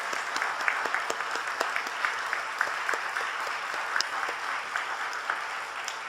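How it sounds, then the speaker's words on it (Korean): Church congregation at a 39th anniversary worship service applauding in thanks: a dense, steady round of many hands clapping together, sustained and fairly even for several seconds with no speech over it. "감사합니다라고 감사의 박수 보내드립니다"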